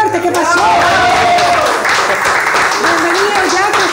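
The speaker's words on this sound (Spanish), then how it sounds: "¡Un aplauso para Yaku más fuerte!" Studio audience clapping and cheering for Ecuadorian presidential candidate Yaku Pérez on a TV show set, loud and continuous, with a host's voice and crowd calls running over the applause.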